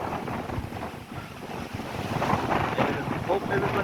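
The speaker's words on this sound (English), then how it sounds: "And it's really windy right now." Strong storm winds in California, powerful enough to knock down a fence, rush and buffet the microphone in a steady loud roar that swells toward the end.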